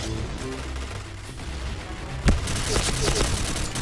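Gunfire from a gun in the video game Point Blank, with a sharp loud shot followed by a dense burst of rapid fire over game sound, no talk.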